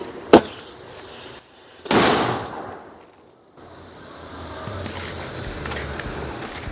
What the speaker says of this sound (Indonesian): yang pertama kita coba mercon Bola Launcher. Ini bisa terbang ke atas